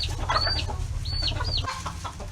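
Several chickens cluck close by, with short rising squawks and murmuring calls over a low steady hum from an electric waterer.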